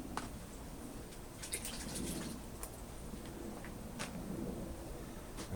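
Roots of a dwarf Chinese elm being swished through a container of water, producing soft, continuous sloshing and splashing with a few brighter splashes.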